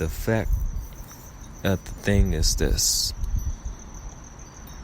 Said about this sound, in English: You guys hear the crickets in the background.